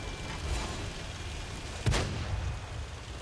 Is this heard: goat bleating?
no